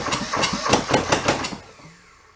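A junked small diesel engine turns over with a quick, loud run of regular knocking pulses for about a second and a half, then dies away into quiet.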